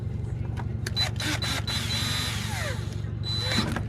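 A power drill drives larger hex screws into an ARRMA Mojave RC car, a steady close motor whir with short bursts of buzzing and a few clicks and rattles of parts.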